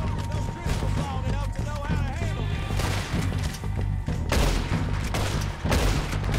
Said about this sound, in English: I shot his hat off again